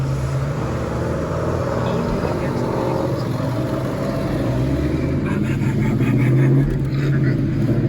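A steady low truck engine rumble runs throughout, loud and close, at an outdoor car show, with a slight rise in intensity near the end.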